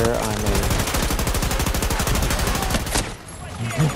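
Rapid automatic gunfire in Battlefield 2042 on PS5, a dense steady burst of close shots running for about three seconds before cutting off, with a brief quieter tail after.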